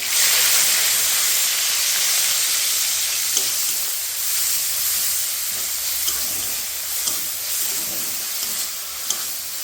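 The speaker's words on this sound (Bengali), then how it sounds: "এখন আমি একটু সামান্য তেল দিয়ে দেব, একটু গোটা জিরে, পেঁয়াজ" Oil sizzling steadily in a pan with whole cumin seeds and onion frying, a continuous close hiss with occasional small pops and stirring clicks, no talking.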